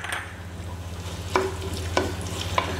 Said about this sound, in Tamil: கொஞ்சம் அது இதில் மிக்ஸ் பண்ணிட போகிறோம்.